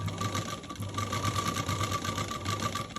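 A sewing machine runs steadily, stitching a seam on a T-shirt with an even mechanical whir and needle rhythm throughout, close and alone with no talk.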